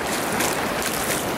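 Ocean waves wash under bright sunshine, a broad continuous hiss of surf, close and fairly loud, with no talking.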